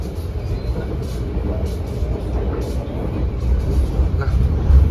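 Passenger train Ciremai running past Pleret station in the Priangan region of Indonesia, a steady loud rumble of wheels and carriage noise heard from on board that grows slightly toward the end.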